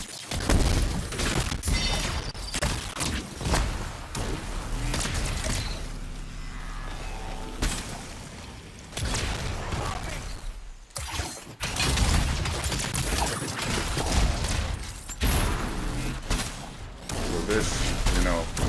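A weapon fired over and over in the video game Anthem, loud rapid bursts of shots and booms mixed with heavy game effects, with a voice talking over parts of it.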